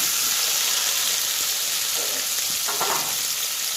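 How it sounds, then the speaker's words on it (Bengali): Chopped onions fry with cumin seeds in a pan for chicken kosha, producing a loud, constant sizzle with a couple of brief stirring scrapes near the end. "দেখুন পেঁয়াজটা প্রায় ভাজা ভাজা হয়ে গেছে।"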